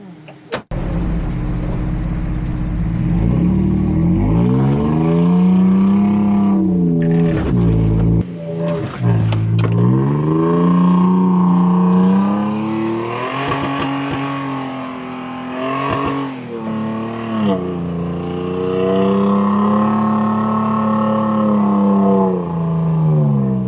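A Toyota engine revs hard and steadily as the vehicle works to get unstuck, its rising and falling drone loud and close, with a brief pause before climbing again.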